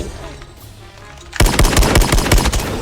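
SKS rifle fire in the mobile shooter Call of Duty Mobile: after a quiet stretch, a rapid burst of loud, closely spaced shots erupts and continues to the end.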